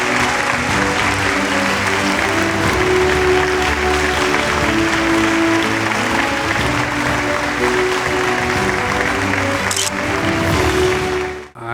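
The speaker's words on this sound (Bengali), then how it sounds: "একবার জোরে হাততালি হয়ে যায়" Loud, sustained audience applause at a hospital award ceremony, dense clapping from a large crowd that holds steady for several seconds before cutting off abruptly at the end.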